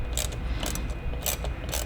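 Ratcheting clicks from a tool tightening a hose clamp in the engine bay of a Ferrari 458 with a direct-injected engine, in quick close bursts over a low steady hum, with no talk.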